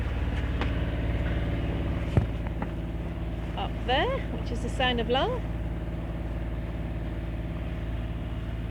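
A sailboat motors on engine power with the mainsail out in light wind, Sound of Luing in Scotland; a steady low engine drone runs throughout beneath nearby talk.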